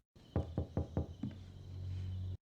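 Four evenly spaced knocks on a door in a TV drama episode, close and distinct, followed by a softer fifth tap, then a low steady hum fills the background.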